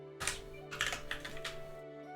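Computer keyboard typing in clustered bursts of quick keystrokes, close and fairly quiet over a steady low hum, with no voices.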